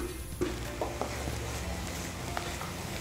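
Close-up stirring of watered-down masala in a pan for mushroom tandoori, with scraping strokes over a steady sizzle of cooking food and a few soft taps.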